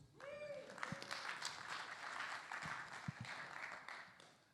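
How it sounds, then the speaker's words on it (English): A comedy-show audience at a fringe festival theatre applauds a comedian walking on from the back of the stage. A brief whistle rises at the start, then soft, steady clapping continues from a small crowd. "That's the applause."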